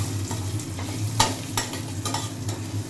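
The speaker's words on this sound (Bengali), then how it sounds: "আদাটা একটু ভাজা ভাজা হবে," Julienned ginger fries in hot oil in a wok for chili chicken, giving a close, steady sizzle broken by a few sharp scraping stirs of the spatula.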